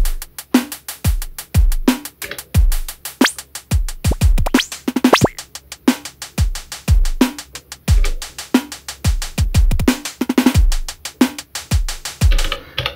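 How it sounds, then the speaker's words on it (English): A randomized hi-hat pattern programmed on an Elektron Digitone synthesizer, heard as fast, uneven electronic ticks and short hissy bursts with varying lengths, mixed with deeper percussive hits in a steady loop, loud and close with no talking. "So the hi-hats will sound like this right now."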